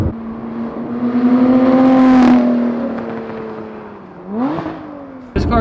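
A 2021 Lotus Evora GT on the road, its engine note climbing loud and close, then dropping with a gear change, rising again and cutting off sharply near the end.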